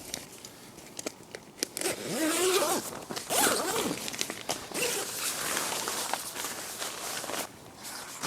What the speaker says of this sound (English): Going to carry on with the ground sheet, just zipping it in, working my way around.